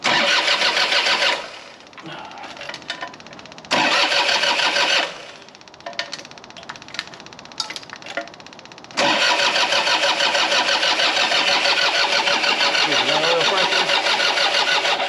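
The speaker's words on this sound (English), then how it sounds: "Let's start cranking again." An old Takeuchi excavator's engine cranks with a loud, rapid starter churn in repeated bursts, with short pauses between attempts, then catches and keeps running as a steady, close, rough mechanical drone to the end.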